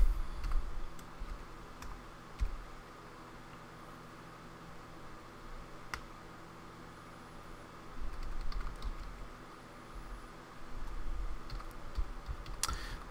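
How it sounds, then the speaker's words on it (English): Someone types Java code on a computer keyboard, producing a continuous patter of close, soft key clicks with occasional sharper taps and brief pauses, and no talk. "let me just type this out and then I'll explain it"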